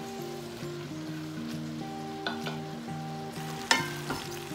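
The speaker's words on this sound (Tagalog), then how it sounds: "Haluin lang natin." Pancit bihon noodles stir-fried in a pan, with a soft steady sizzle and occasional scraping clinks from stirring, over background music.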